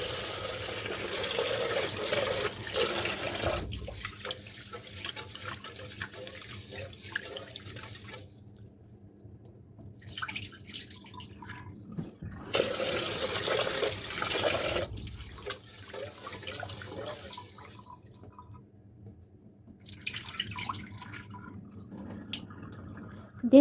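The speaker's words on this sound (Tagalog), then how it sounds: "So first ay hinugasan muna natin yung ating rice." Glutinous rice being washed under running tap water in a kitchen sink for pandan biko, with bursts of flowing water alternating with quieter stretches of swishing and dripping, fairly close, with no speech.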